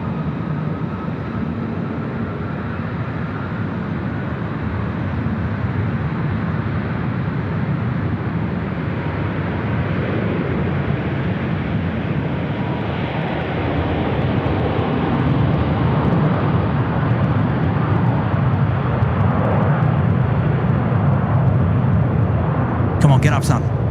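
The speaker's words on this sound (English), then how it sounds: "Indonesia now departing runway 16 right." An airliner's engines roar steadily during takeoff from runway 16 right at Sydney Airport, a broad low rumble heard at a distance that builds gradually louder toward the end, with voices talking over it.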